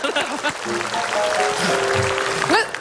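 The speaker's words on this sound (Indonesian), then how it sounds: "tepuk tangan dulu dong" A studio audience on the Indonesian comedy talk show Indonesia Lawak Klub breaks into applause, a short burst of clapping mixed with voices and a musical tone from the set.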